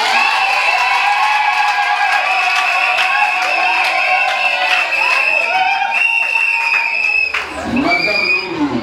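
Wedding guests at a civil ceremony in a party hall cheering and applauding, a loud mix of clapping, whoops and shrill ululating calls over lively chatter.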